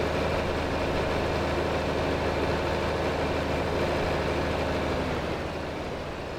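A 300-horsepower tractor in Farming Simulator idles with a steady, low diesel rumble, even and unbroken, easing slightly quieter near the end.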